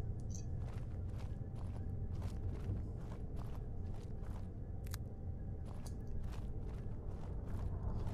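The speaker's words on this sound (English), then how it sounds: "It says my footsteps are muffled, but they sound loud as hell to me." Muffled footsteps of an archer character in Skyrim, walking through Redoran's Retreat, a steady run of soft, close steps over a constant low game ambience, with no talk.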